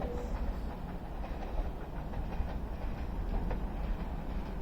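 A train runs through Stockport station on the West Coast Main Line, giving a continuous broadband rumble with faint rail clatter that holds steady throughout, with no voices.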